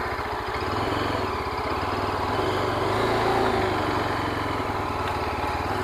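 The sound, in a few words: Yezdi Adventure motorcycle engine at low RPM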